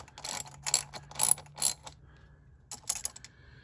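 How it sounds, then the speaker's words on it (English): Ratchet wrench clicking in short bursts as a 10 mm clamp is tightened on a carbon intake on a wide-body Hellcat, several quick ratcheting runs close to the mic, then quiet with faint clicks. "we're just gonna ratchet it down"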